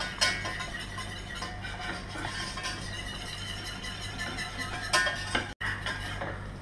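A chickpea flour roux stirred in a pot, with soft repeated scraping and clinks of a utensil against the metal over a low steady hum, no talk.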